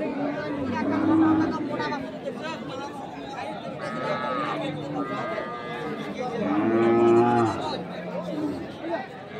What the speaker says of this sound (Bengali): দেখি এ পাশে যাই। এ পাশেও কিছু গরু আছে।